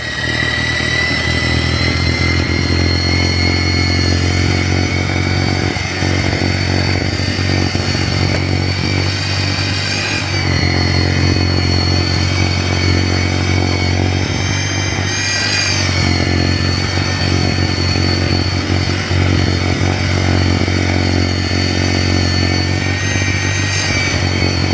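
EGO SNT2400 two-stage snow blower running its auger through wet snow, a loud, close, continuous motor whine and churning roar that holds steady throughout with slight surges and no talk.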